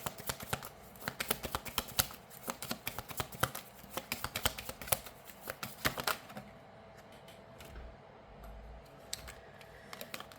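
Tarot cards are shuffled, drawn and flipped over on a surface, giving a close, quick run of papery snaps and flicks for several seconds before fading into a quieter stretch with a few isolated taps.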